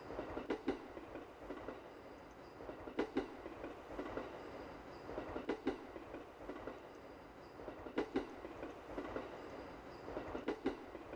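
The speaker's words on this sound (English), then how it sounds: "I feel like this train will never stop" A moving train in a Japanese horror video game rumbles steadily, with recurring clusters of rhythmic clickety-clack wheel beats every couple of seconds over a low continuous rolling drone.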